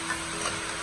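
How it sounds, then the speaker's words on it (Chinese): Chicken stir-fried over the highest heat with ginger, garlic and dried chilies gives a steady, dense, close sizzle and crackle with no talking. "接着把鸡肉也倒在里面，我们要开最大的火翻炒均匀"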